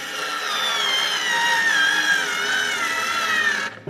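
A Daewoo 3.6V lithium cordless screwdriver drives a screw into wood with a steady, close, high-pitched motor whine, its pitch sagging slightly as it strains, then cutting off after nearly four seconds.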